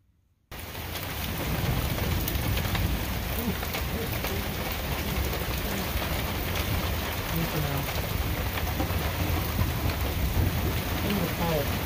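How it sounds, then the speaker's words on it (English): Steady heavy rain pours down during a thunder shower on the Appalachian Trail, a dense constant hiss of drops on surfaces close by, starting abruptly and holding an even roar, with faint low rumbling underneath. "that was a bad thunder shower"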